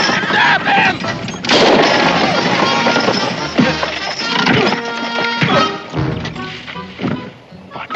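Gunfire rings out in a frontier western drama scene, several sharp shots amid a loud, busy mix of commotion and dramatic sound.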